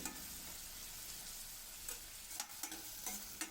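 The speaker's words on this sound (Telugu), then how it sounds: "మీడియం సైజులో కట్ చేసుకొని వేసుకొని ఫ్రై చేసుకోవాలి" Medium-cut onions fry in a pan, a soft steady sizzle with a few light stirring clinks toward the end, fairly quiet and without any talking.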